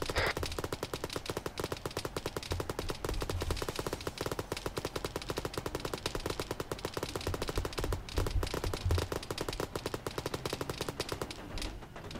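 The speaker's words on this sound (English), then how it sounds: "Don't shoot too close to the wall." Dense, continuous automatic gunfire from a military training assault in the video game ARMA 3, rapid rattling bursts filling the whole stretch at moderate level with no break and no talk.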